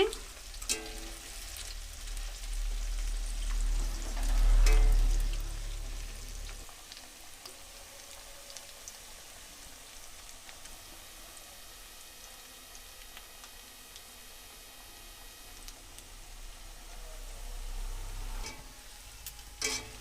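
Chicken pakora frying in oil in a pan while being stirred: a continuous soft crackling sizzle with occasional scrapes and clicks, and one louder swell of bubbling early on before it settles back to a gentle fry.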